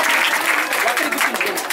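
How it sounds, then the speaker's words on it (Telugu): Church congregation clapping loudly at Messiah Baptist in Hyderabad, a steady wash of many hands applauding throughout the short burst, close and full. "ప్రజలు గట్టిగా చప్పట్లు కొట్టండి."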